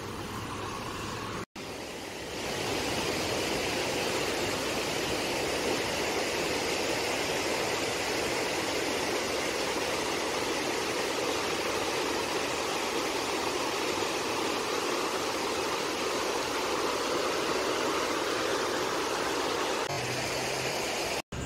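Bijaypur stream near Chauthe on the Prithvi Highway in Nepal, flowing down from the hills, gives a steady, loud rush of water that holds unbroken for about eighteen seconds, with no voices over it.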